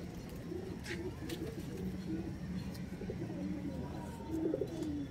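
A pigeon loft of high-flying Kalodana and Andhra pigeons fills with continuous low cooing from several birds, a soft steady murmur of overlapping throaty calls with a few short clicks above it.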